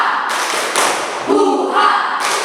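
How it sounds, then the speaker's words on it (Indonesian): Students in a high school classroom perform a rhythmic spirit clap, steady thumping claps and shouted chants filling the room loudly throughout. "Sekali lagi tepuk semangat."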